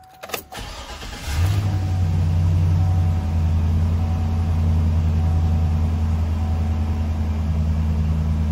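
A 2010 Chevrolet Silverado 2500 V8 engine cranks briefly, catches, and settles into a steady, deep rumbling idle that continues alone.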